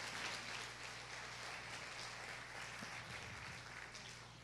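Congregation applauding during a family church service, a steady faint wash of clapping with no clear breaks.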